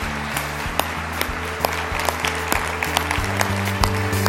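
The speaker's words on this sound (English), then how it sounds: "Applause." Enthusiastic crowd applause with scattered sharp claps over a dense, steady patter of many hands, mixed with low background rumble.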